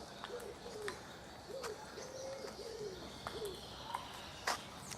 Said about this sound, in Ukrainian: Парк цього року дуже багатий на птахів.